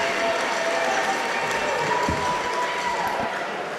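Crowd applause at a local all-star basketball game, a steady wash of clapping filling the gym, moderate and even throughout, with a few thuds of a ball bouncing underneath.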